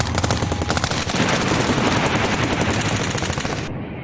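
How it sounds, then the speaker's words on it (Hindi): Heavy gunfire from a war drama set in the 1999 Kargil conflict, heard as loud, dense rapid machine-gun bursts that rattle continuously for several seconds before cutting off abruptly. "घुसपैठियों को मजबूती देने के लिए पाकिस्तान की तरफ से heavy firing and artillery shelling"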